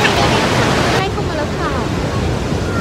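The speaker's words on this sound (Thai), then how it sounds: "กำลังเข้าจะลงไปที่น้ำตกแน่นอน" Rhine Falls in Switzerland gives off a loud, constant roar of crashing water, heard up close. It is a dense wall of noise that eases slightly after the first second.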